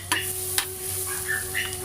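Seafood curry ingredients sauté in a pan with a steady sizzle, a few sharp clinks of a utensil against the pan on top.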